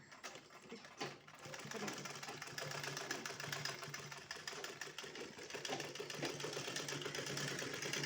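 A sewing machine stitching a blouse runs in a steady, continuous mechanical whir for most of the clip after a brief pause, with close, even loudness and no talking.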